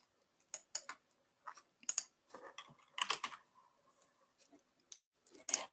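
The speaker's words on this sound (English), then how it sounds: "So what I'm going to do is type in the word adult here." Irregular bursts of clicky keystrokes on a computer keyboard, close and fairly quiet, with short pauses between clusters of key presses and no talking.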